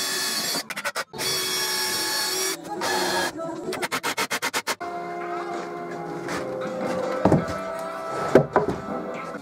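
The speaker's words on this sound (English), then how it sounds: "drill some pilot holes before I assemble" A power drill whirs in bursts while drilling pilot holes in oak, starting and stopping several times with rapid pulsing triggers, then quieter workshop clatter and knocks follow.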